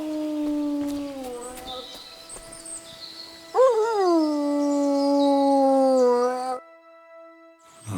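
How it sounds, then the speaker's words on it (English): A dog in Kingdom Come: Deliverance II howls in long, loud, rising and falling wails, one sustained howl then a second stronger one, with birds chirping faintly behind. "No wonder the dog's howling like mad."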